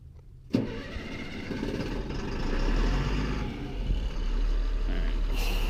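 A large Stewart & Stevenson truck engine, jump-started after dead batteries, cranks and catches, then rumbles up into a steady, loud idle with a low diesel-like growl.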